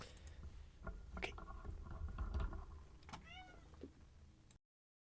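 A house cat makes a few faint, short meows with rising and falling pitch amid low rustling and shuffling room noise, ending abruptly in silence.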